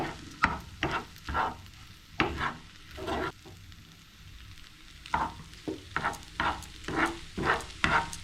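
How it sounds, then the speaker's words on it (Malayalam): Egg rice frying in oil is stirred in a pan, giving repeated scraping strokes in uneven bursts over a soft sizzle, close and moderately quiet, with no speech. "നമുക്ക് നല്ലപോലെ ഒന്നുകൂടെ മിക്സ് ചെയ്യാം"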